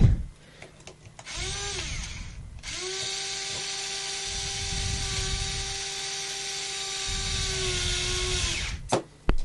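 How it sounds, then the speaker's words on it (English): Electric screwdriver driving screws into a Tarot Iron Man quadcopter frame, two whirring runs rising in pitch and holding a steady whine, the second much longer, with small clicks and handling noise between. "I'm just going to pop the electric screwdriver on."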